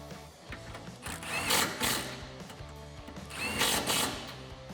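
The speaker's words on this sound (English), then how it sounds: "Take those factory 10mm nuts, thread them in by hand, and then tighten them down with your 10 socket" Power-tool whirring in bursts while 10mm factory nuts are tightened down with a 10mm socket on a 2017-2019 Ford F-150 Raptor exhaust install, several close, moderately loud runs with brief pauses.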